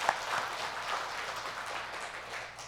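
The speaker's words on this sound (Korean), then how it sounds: "우리 박수하겠습니다." Congregation at a Sunday church service in Advent clapping after a choir's hymn, soft steady applause heard from a distance in a large hall.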